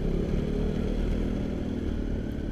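A 2014 Honda Supra X 125 R motorcycle engine runs steadily up close, a dense low mechanical rumble with constant loudness and no talk over it.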